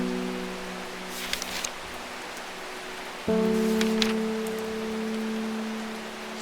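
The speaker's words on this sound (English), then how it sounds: "it has been rainy more days than not while I've been playing this game" Soft, steady rain falls in the video game Strange Horticulture as a constant hiss beneath a low sustained music drone that shifts pitch partway through, with a few faint taps.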